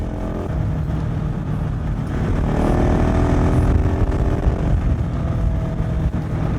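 A 2021 KTM 690 SMC R single-cylinder motorcycle being ridden, a steady loud engine drone with wind rush that swells slightly mid-way as it pulls harder, heard close and continuous with no talking.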